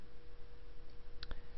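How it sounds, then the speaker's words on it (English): Mouse click input feedback sound from the XFCE 4.8 desktop: two quick, crisp clicks close together near the end, faint over a low steady hiss. "This allows you to enable sound for different events like input feedback sounds, mouse clicks, arrow sounds, and so on."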